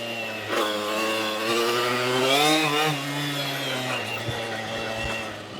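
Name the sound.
Puch ZA 50 moped with tuned 3-speed engine riding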